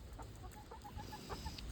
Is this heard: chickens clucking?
yes